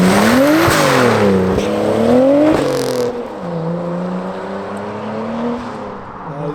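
A car at an outdoor car meet revs loudly and close by in repeated rising and falling bursts, then settles into a lower, steadier engine drone.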